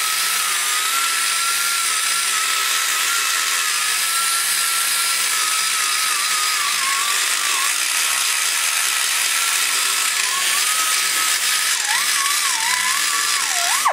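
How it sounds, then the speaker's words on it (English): A die grinder whines at a high, steady pitch while radiusing the edge of an oil return hole in an engine block, loud and close, with a slight dip in speed near the end. "take the die grinder and you go around the edge like this."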